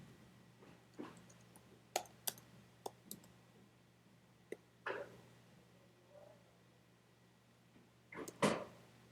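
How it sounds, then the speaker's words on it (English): Sparse clicks on a computer keyboard during coding, isolated keystrokes spaced irregularly with a few louder taps near the end, quiet and close with no voices. "then start typing title string"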